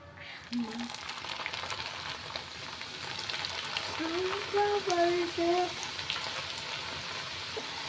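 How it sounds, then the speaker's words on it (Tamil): Leftover samosa pastry trimmings fry in hot oil with a steady crackling sizzle, while a faint voice hums or murmurs over it midway. "இதையும் நம்ம ஃப்ரை பண்ணி எடுத்துக்கலாம்"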